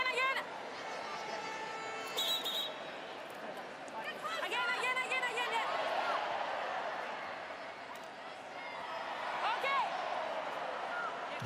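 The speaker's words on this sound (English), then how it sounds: "the crowd playing their part here, creating a bit of an atmosphere there" A big crowd at a women's field hockey World Cup match in The Hague swells in rising and falling waves of cheering and whistling, with a commentator talking over the noise.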